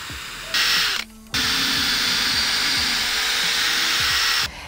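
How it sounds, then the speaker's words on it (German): A power drill whirs continuously while boring holes in a piece of wood, briefly stopping and restarting, with a steady high-pitched motor whine close by. "man nimmt ein Stück Holz und bohrt ein paar Löcher rein"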